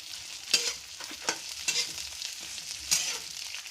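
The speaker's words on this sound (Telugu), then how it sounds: "చిన్నులపాయలు, కరివేపాకు వేసి ఇంకా బెండకాయ ముక్కలు వేద్దామని అనమాట." Okra pieces fry in a pan with mustard seeds, small onions and curry leaves: a constant close sizzle broken by sharp spatula scrapes and clacks at irregular moments, with no talking.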